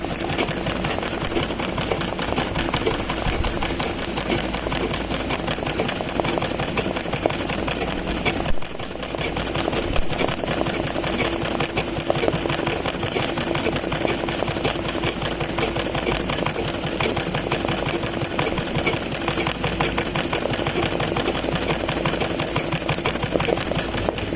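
A sewing machine stitching a running stitch for embroidery on a table cloth, a fast, even mechanical whirr and needle chatter continuing steadily up close with one brief dip, no talking.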